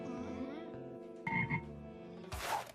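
A frog croaks in a few short, rough bursts that rise to a louder final call, close by and with no voices over it.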